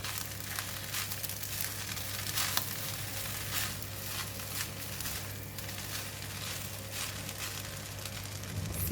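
Fried rice with egg and onions sizzles steadily in a hot pan, soft crackling and frying hiss holding at a quiet, even level throughout.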